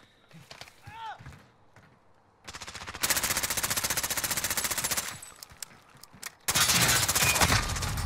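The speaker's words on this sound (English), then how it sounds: "Robert, why did you shoot me?" Rapid automatic gunfire in Call of Duty: Modern Warfare, two loud sustained bursts of dense shots separated by a short pause, with a player's voice briefly heard before the shooting begins.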